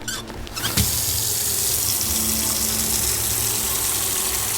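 Water gushes from a tap into a container in the autopsy game Autopsy Simulator, a steady loud hissing rush starting abruptly after a brief click and continuing without speech.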